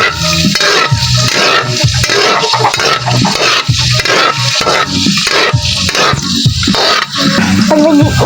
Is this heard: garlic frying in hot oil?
yes